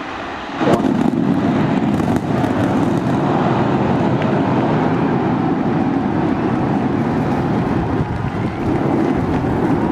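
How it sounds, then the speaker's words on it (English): SpaceX Starship rocket liftoff roar, a loud sustained rumbling blast that swells in sharply after a brief quiet moment and holds a thick broadband roar, buffeted like heavy wind, with no voices. "We got liftoff. Vehicle pitching down range."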